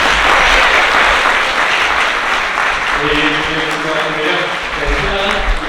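Wedding guests keep up warm, steady applause while the parents of the bride and groom greet each other, and a voice talks over the clapping partway through.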